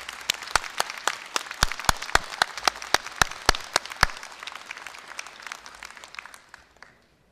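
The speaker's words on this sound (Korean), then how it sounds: "염재호 총장님을 위해서 박수를 한번 쳐드리면 어떨까 싶습니다" Applause at a university graduation ceremony for the retiring president, sharp distinct claps at a steady rhythm that fade out toward the end, leaving silence.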